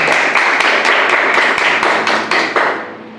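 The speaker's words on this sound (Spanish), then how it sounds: "Den un aplauso al Señor." Congregation applauding in a church service: steady, dense clapping with a faint rhythmic beat on top, fairly close and loud, fading slightly near the end, with no talk over it.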